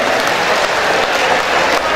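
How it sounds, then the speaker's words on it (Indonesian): Audience applause at a 2015 Dumai mayoral and deputy mayoral public debate, a steady, dense clapping crowd filling the hall for the full two seconds at close, loud level. "Tepuk tangan dulu"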